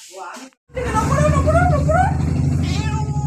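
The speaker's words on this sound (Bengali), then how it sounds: "এখন এসে ম্যাও ম্যাও করছিস?" A house cat gives several wavering, drawn-out meows up close, rising and falling in pitch, with a person talking around them.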